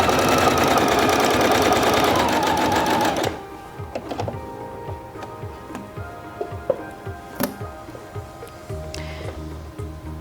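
A Singer Featherweight C240 sewing machine stitches in a fast, dense whir for about three seconds, then stops, leaving quiet ticks and small mechanical clicks.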